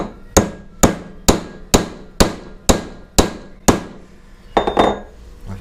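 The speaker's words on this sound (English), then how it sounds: "while hammering down on this." A hammer strikes a Dodge driveshaft U-joint in eight evenly spaced sharp metallic blows, each ringing briefly, followed by a few quicker, messier knocks near the end, close and loud with no talking.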